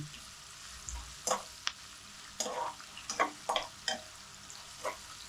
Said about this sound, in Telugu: కొంచెం అల్లం వెల్లిగడ్డ వేస్తున్నామా.